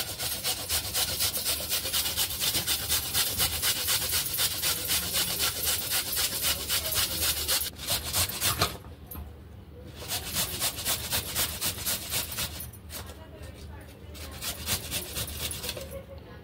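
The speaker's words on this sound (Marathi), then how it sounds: "अशा चाळणीने याला किसून घ्यायचं।" Raw pumpkin grated against a metal grater, a steady, fast series of scraping rasps heard close and loud, broken by two short pauses before the strokes start again.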